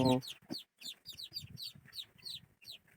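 Small oriental chicken chicks peep in rapid, repeated high chirps, close and lively, with a brief low cluck-like burst at the start and soft handling noises underneath.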